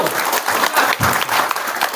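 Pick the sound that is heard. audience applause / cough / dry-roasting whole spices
audience applause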